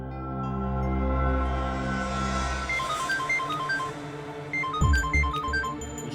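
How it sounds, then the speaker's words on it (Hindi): Mobile phone ringtone in a Hindi crime drama, a repeating electronic melody of short beeping notes heard at moderate distance over a low ambient background. "उसी का फोन है।"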